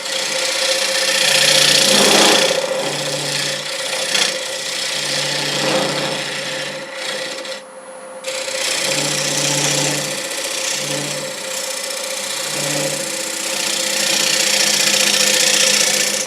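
A wood lathe cuts a dovetail recess into a turned paten held with live center support, a steady whirring hum under rasping tool scrapes that come in several bursts, with a brief pause near the middle.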